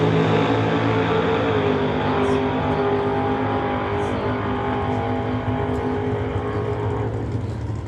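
Two drag race cars run side by side down a quarter-mile strip, a loud, steady engine roar holding throughout with no break.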